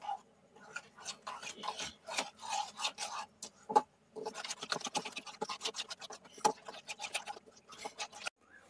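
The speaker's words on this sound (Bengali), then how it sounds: "এবার আমি সমস্ত মশলার সঙ্গে দইটাকে মিশিয়ে নিচ্ছি।" Yogurt being stirred with chili powder and garam masala for Bengali-style chicken kosha, a spoon rasping and scraping rhythmically against the bowl in short repeated strokes, close and fairly quiet.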